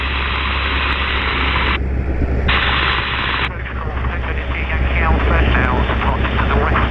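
A Supermarine Spitfire's engine drones loud and steady as the aircraft pitches its nose up over Duxford at about 250 knots. Radio voices talk over the engine noise.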